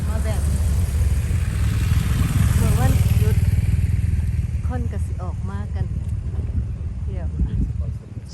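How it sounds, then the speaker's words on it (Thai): Motorcycles passing on a street in Switzerland, a loud, steady engine roar with wind buffeting the microphone and someone talking over it throughout. "พวกมอเตอร์ไซค์ก็สิมาแบบนี้นละคะ"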